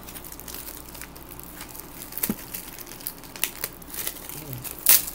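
Plastic wrapper of Pokémon card packs crinkling and tearing as they are opened, scattered close crackles and rustles with a sharp burst near the end, over a low background hiss.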